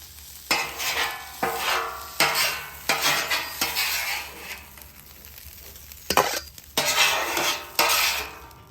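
Charred corn tossed with lime and cilantro on a flat-top griddle: repeated scraping and stirring strokes with spatula clinks over a steady sizzle, close and fairly loud, with brief pauses between bursts.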